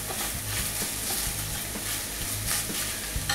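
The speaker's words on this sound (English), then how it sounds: "I'm gonna add 2 chipotles in there and kind of mash them up" Two chipotles get mashed into very lean ground beef in a hot pan for chili, with a steady sizzle and a regular pattern of soft low thuds and scrapes from the pressing.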